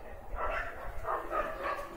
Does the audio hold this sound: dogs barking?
yes